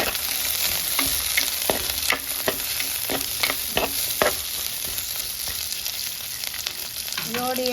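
Curry leaves and whole garlic fry in hot oil with a busy crackling sizzle, interrupted by frequent sharp spatula scrapes and clacks, close and loud throughout with no talking.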